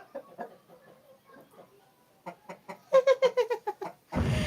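A hen clucks in a quickening series of close, distinct notes that build to louder rhythmic calls, ending in a burst of noisy rustling.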